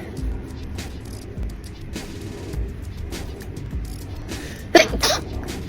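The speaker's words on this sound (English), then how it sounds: "I gotta sneeze." A congested woman lets out a sudden sharp sneeze near the end after a stretch of quiet breathing and low room noise, close and loud.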